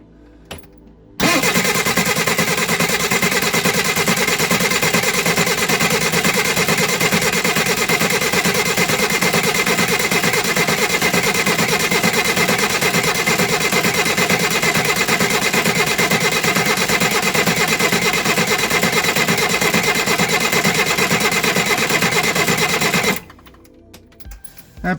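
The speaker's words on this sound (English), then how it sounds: "Let's crank this over and see if any oil comes out of that hole now." A Reliant Supervan 3 engine, oil filter fitted, cranks over on the starter in one long, steady, loud whirring run of about twenty-two seconds that neither catches nor fires, then cuts off abruptly.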